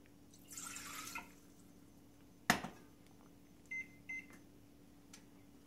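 A microwave oven runs while heating water for a neti pot, with a low steady hum, a short hiss early on, a sharp clunk of the door or container, and then a few brief electronic beeps.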